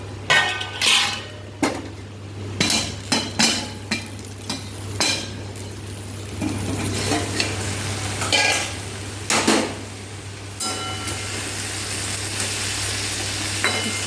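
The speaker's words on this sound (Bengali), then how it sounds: "চলো একটু তরকারিটা ভাজতে হবে।" Yardlong bean and potato curry fries in a pan while a spoon scrapes and clatters against the metal in quick repeated strokes, over a constant low hum and sizzle.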